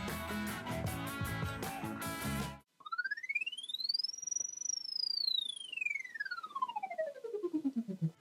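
MindLax sleeping mat gives off a clear electronic tone that sweeps up and then slowly glides back down, with a steady pulsing throb from its vibration, heard alone after a brief burst of louder music at the start.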